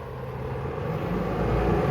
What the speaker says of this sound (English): here's somebody, a big truck coming by